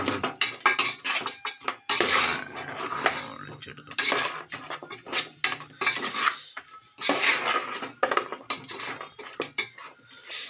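Pork fry with ginger and garlic being stirred in a pan, with repeated close metallic scrapes and clatters of the utensil in uneven bursts; a voice talks between the stirring.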